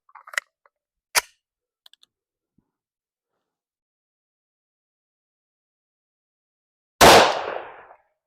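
A single sharp gunshot rings out near the end from an HK USP 45 full-size pistol firing Underwood .45 ACP +P hollow points, preceded by a few faint clicks and handling ticks in near silence.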